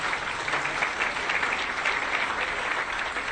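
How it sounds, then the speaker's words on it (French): An audience gives a sustained, even round of applause, thick overlapping clapping from a large crowd at a moderate distance, with no speech over it. "je vous demanderai d'applaudir très fort mon ami Mbagnick Diop"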